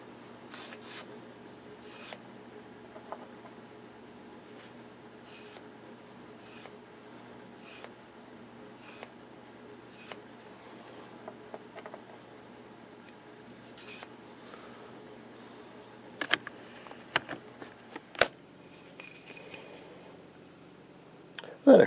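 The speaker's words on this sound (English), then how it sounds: "then I will sand it a little bit." Sanding filler on a Philco 49-901 radio cabinet, faint short strokes of sandpaper repeating at a slow, uneven pace, with a few louder knocks near the end.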